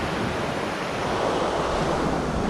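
Big sea waves surge and wash continuously at Porthcurno, Cornwall, heard from a kayak on the water, a dense, steady roar of surf with some wind buffeting the microphone.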